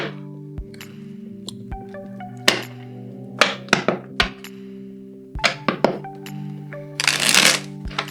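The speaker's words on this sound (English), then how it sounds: "I like this deck because it's good for the kind of classic shuffle." Repeated riffle shuffles of a deck of cards, with crisp bursts of flicking cards and occasional taps as the deck is squared, close and clear, no talking.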